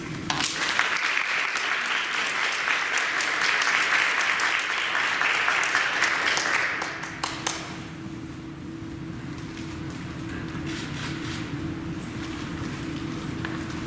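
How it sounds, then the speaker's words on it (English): A crowd at an awards ceremony applauds loudly with steady clapping for several seconds, then the clapping stops abruptly, leaving a low hum of room noise. "give a round of applause"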